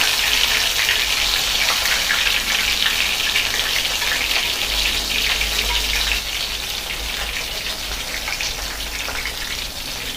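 Soaked soya chunks (meal maker) coated with curd, frying over low heat in a pan, giving a steady, close, hissing sizzle like rain that runs unbroken throughout.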